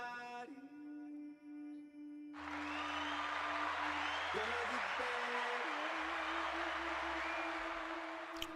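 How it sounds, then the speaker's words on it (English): Steady broadband applause for Vach Lombardi on an NFL draft talk show starts abruptly after a brief tonal intro and carries on loud and even until the end, with a sustained tone running over it. "Let's put a round of applause to my guy"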